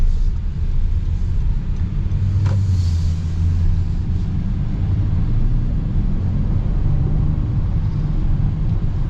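A 2026 Honda Odyssey Elite minivan accelerates, heard from inside as a steady low engine and road rumble with a slight rise and fall in tone, no talking.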